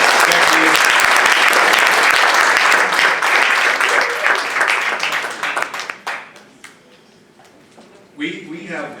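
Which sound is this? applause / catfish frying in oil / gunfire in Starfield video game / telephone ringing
applause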